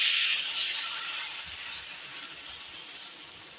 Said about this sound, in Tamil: இப்போ அடுப்பில் தோசை கடாயை வச்சுருக்கேன். நல்லா காஞ்சிச்சு பாருங்கள். எண்ணெய் தடவியாச்சு. நம்ம இதை ஊற்றலாம்.